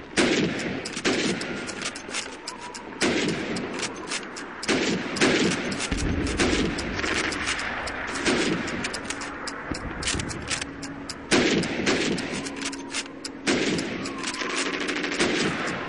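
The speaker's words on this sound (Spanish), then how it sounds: "Tiene 15 segundos para disparar a los cascos" Rifle fire in the Call of Duty 2 Red Army training mission, shooting at helmets under a time limit: dense, loud, continuous rapid gunshots and echoing cracks with no pauses and no voices.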